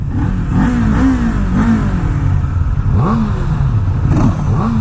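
A 2019 Kawasaki Z400 motorcycle engine revving up close, the throttle blipped repeatedly so the pitch climbs and falls in a series of rising sweeps over a steady loud idle, with no talk.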